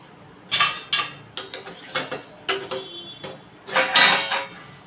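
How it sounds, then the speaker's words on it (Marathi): A metal pot lid lifted off a pan of cooking taklyachi bhaji greens, giving a series of sharp close clinks and scrapes with short gaps between them, followed by a longer rattling clatter near the end. "झाकण काढत आहे"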